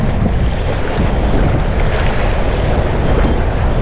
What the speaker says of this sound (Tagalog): Uy, lakas ng alon.